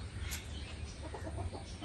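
Farm chickens cluck faintly in short, soft bursts against a low background hum, heard from a distance with no speech.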